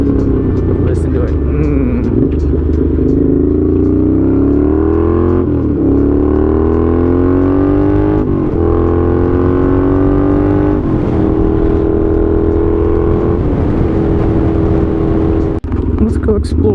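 A Honda GL650 motorcycle engine drones close by on a shakedown ride, rising and falling as it accelerates through repeated gear changes, with wind noise throughout.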